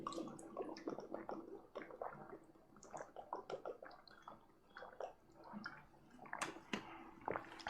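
A person pausing mid-lecture to drink water: quiet, close-up gulps and wet swallowing sounds in short irregular bursts, with no talking.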